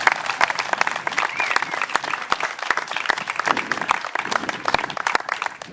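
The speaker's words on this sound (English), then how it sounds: "could we please give all of our speakers and our singers a big round of applause?" An outdoor community crowd applauding speakers and singers, lively scattered clapping with sharp individual claps, steady for several seconds and tapering slightly at the end.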